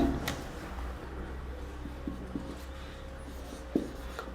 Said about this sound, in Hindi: इस इक्वेशन को मैं अगेन यहां पे लिखता हूं